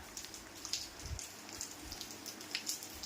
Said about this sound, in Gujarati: ચલાલામાં એકદમ ધીમી ગતિએ વરસાદ શરૂ થયો છે